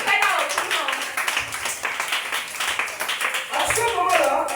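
A church congregation claps and cheers in praise during a spiritual revival service in Porto-Novo, the rhythmic hand claps dense and close, mixed with loud voices calling out and a speaker talking over them.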